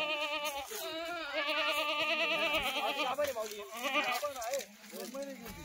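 A herd of Kathiawadi goats bleats close by in a steady run of overlapping, wavering calls, several animals crying at once with no pauses.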